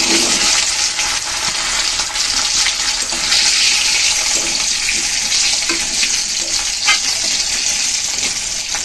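Potatoes fry in a pan with a loud, continuous sizzle and hiss, close up and steady, with no voices over it.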